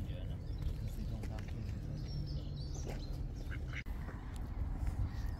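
Mallard ducks quack repeatedly at a wetland centre, mixed with background voices and outdoor ambience; the calls are moderately near and fairly steady throughout.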